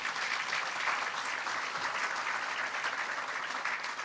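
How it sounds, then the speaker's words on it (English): An audience at a university business building groundbreaking ceremony applauds faculty and staff, a steady, even wash of clapping from a distant crowd that holds for several seconds. "let's give a round of applause for all of our faculty and staff"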